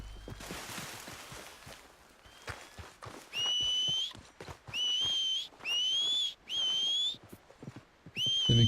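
A horse in Red Dead Redemption 2 clops along with soft hooves, and a series of loud, rising whistles sound in short bursts, several in a row, as someone whistles to call the horse.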